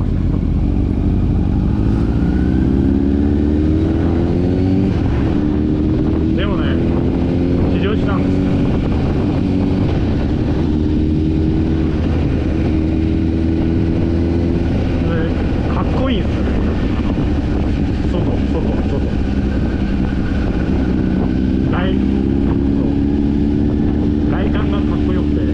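A 2018 Honda CBR1000RR Fireblade ridden on the road: a loud, continuous engine roar with repeated rising pitch sweeps through the gears, under wind rush, with a voice talking over it.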